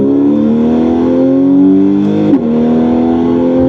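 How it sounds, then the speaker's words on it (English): A Porsche 911 Carrera 4S of the 991.1 generation with its Porsche Sports Exhaust switched on holds a steady, close, loud engine drone, its pitch dipping briefly before settling again. "turning on the PSE, which is a Porsche Sports Exhaust system"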